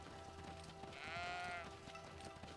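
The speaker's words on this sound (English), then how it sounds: "I think that's the first time I've seen a sheep." A sheep in the video game Greedfall gives a single drawn-out bleat in the middle of the moment, standing out over a steady game soundscape.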